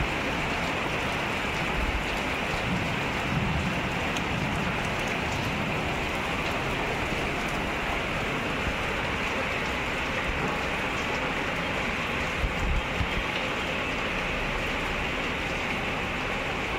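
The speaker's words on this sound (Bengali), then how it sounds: "ঝমঝমিয়ে কলকাতায় বৃষ্টি।" Heavy rain pours steadily over Kolkata, a dense, continuous hiss of drops on surfaces that stays loud and even throughout, with no voices.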